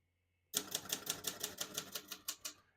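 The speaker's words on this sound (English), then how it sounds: "We're going to keep that on single for now and finish typing." A 1956 Royal Quiet De Luxe portable typewriter types a steady run of about a dozen crisp, loud key strikes in quick rhythm, close up, with no talk.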